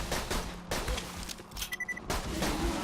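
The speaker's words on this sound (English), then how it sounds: "I think it shoots 5-round bursts, which is pretty darn powerful actually." A gun in the video game Borderlands 2 firing five-round bursts, heard as clusters of quick sharp reports with short gaps, fairly quiet against steady game ambience.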